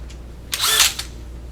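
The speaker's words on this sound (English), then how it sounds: "And then the hammer drill." A DeWALT cordless hammer drill fires a loud half-second burst of high whirring motor noise that quickly cuts off. No other sound accompanies it.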